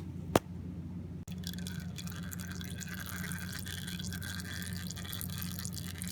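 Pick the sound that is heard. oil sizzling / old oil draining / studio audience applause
old oil draining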